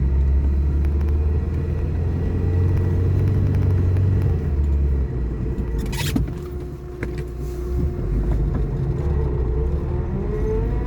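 A car drives slowly up a snow-covered mountain plateau road, its engine giving a steady, close, low rumble with a faint whir and no voices over it.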